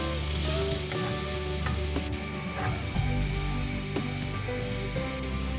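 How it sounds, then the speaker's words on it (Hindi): Garlic frying in a hot pan, a steady close sizzle with soft crackles and a few light clinks of stirring, no voices. "हम इसमें गार्लिक ऐड कर लेंगे। इसको अबाउट हाफ मिनट के लिए लाइट गोल्डन होने तक इसको पका लेते हैं।"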